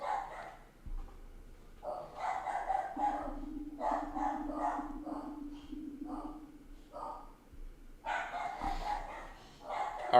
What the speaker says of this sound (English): Excuse the barking for a little bit.